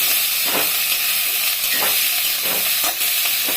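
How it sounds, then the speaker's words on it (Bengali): Drumstick flowers frying in oil in a pan and being stirred: a steady, loud, close sizzle with a few soft scraping stirs through it, and no voices. "এখন আমি একটু নাড়াচাড়া করে ঢেকে দেব, ফুলটাকে একদম মুছতে দিব।"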